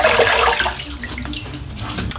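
Tap water runs in a steady splashing rush, loudest at first and then settling into a softer trickle with small splashes as hands wet a face before a wet shave, close by with no talking.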